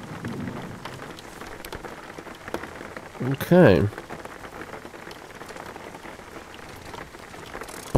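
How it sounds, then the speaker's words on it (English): Rain falls steadily in the driving video game Jalopy, a soft continuous patter with a brief louder burst of sound midway, and someone speaks a single word over it. "It starts raining immediately."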